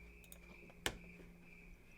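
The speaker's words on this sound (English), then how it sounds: "It's so aesthetically pleasing just to hear the crickets" Crickets give a faint, steady high chirr in a quiet wintry setting, broken once by a single sharp click.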